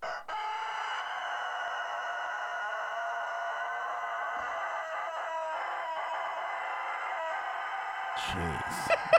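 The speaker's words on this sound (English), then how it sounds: "This is an actual morning rooster caw." A rooster crows in the morning, giving one long, loud, drawn-out call that holds for several seconds before a short burst of other sound at the end.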